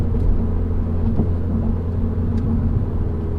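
A car on a time-attack track drives fast with a steady, loud, close road rumble, and a jolt as it runs over a bump partway through.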